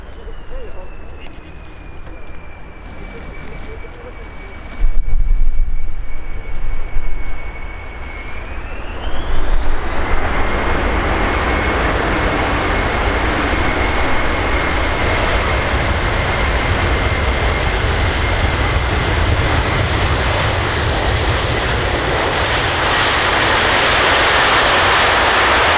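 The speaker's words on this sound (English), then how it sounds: "I think also we should not ignore the manoeuvre that this aircraft is actually conducting." A Boeing E-4B flies a visual circuit at the Royal International Air Tattoo 2022 airshow. Its loud jet roar swells sharply and then holds as a steady, sustained rush, with a thin whine that dips and then climbs.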